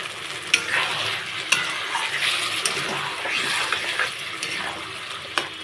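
Raw spinach paste fries in a pan with potatoes while being stirred, a soft steady sizzle broken by periodic scraping knocks of the utensil, close and continuous with no talk.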